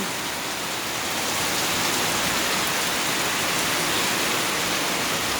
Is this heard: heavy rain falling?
yes